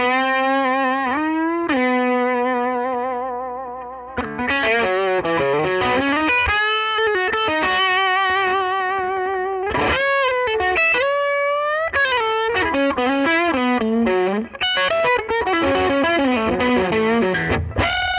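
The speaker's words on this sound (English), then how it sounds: "we'll be running it through this Falcon 20, which is pretty much dime, so you guys can hear natural overdrive" Gibson Les Paul Junior electric guitar through a Falcon 20 amp turned nearly all the way up, giving natural overdrive; a gritty, distorted riff of sustained notes and quick runs, loud and close, with no talking.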